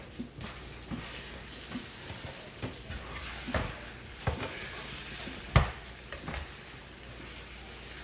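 Eggs fry in a pan with leftover paprika-seasoned hash browns stuck to the bottom, giving a soft continuous sizzle. Occasional taps and scrapes from a spatula stir through it.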